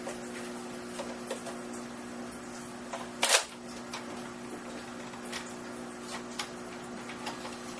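A modified Nerf SMG blaster, the Stampede, fires a single sharp mechanical shot that stands out loud and brief against a steady electric whir, with small clicks before and after.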